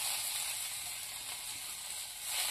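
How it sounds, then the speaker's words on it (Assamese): Ginger and garlic sizzling in hot oil in a kadai, a steady close hiss that stays even throughout and swells slightly at the end, with no voices. "কেৰাহীত তেল গৰম হৈ গল এতিয়া প্ৰথমতে কি দিবা আদা নহৰু দি দিছো"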